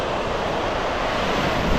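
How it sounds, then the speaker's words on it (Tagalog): Large ocean waves rolling onto a beach at Dingalan, Aurora, a continuous loud roar of surf mixed with wind buffeting the microphone, with no talk. "ang lalaki ng alon!"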